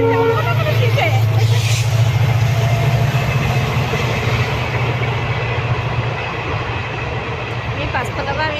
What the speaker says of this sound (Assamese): ট্ৰেইনৰ মাতটো উঠিছে।